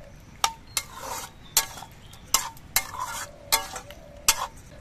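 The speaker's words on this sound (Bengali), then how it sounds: "এবার ঘিটা দিয়ে নেড়ে চেড়ে মিশিয়ে দেব" A spoon stirs ghee into a chana dal and pumpkin curry in a pot, giving regular sharp scrapes and knocks against the metal over a low simmering sizzle, close up with no talking.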